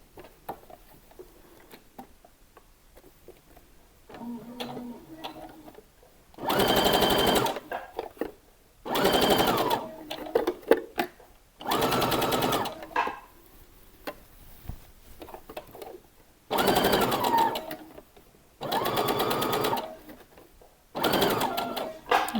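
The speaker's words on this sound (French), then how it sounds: "on va faire une surpiqûre à bascule au bord de la parmenture" Sewing machine topstitching along the facing edge of a sewn top, running in about six separate bursts of one to two seconds each, close and fairly loud, with quiet fabric handling in between.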